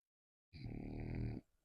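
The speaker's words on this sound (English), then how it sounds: "Just a nice little puppy snore through there." A puppy gives one short, faint, close snore, a single rough breath of under a second that breaks a silence and fades quickly.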